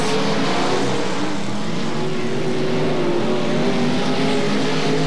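Stock cars race at Gallatin Speedway, a dense, steady roar of many engines with overlapping drones that stays loud and continuous throughout, with no voices.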